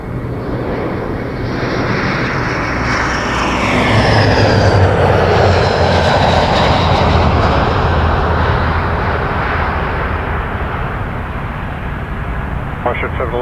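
At Toronto Pearson Airport an airplane takes off from the runway with a broad, sustained engine roar. The roar swells and sweeps in pitch as the plane passes, then slowly fades.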